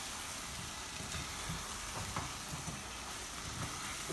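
Marinated chicken frying in a pan for chicken qurma, a low, continuous sizzle with faint stirring scrapes, quiet and even throughout with no talking.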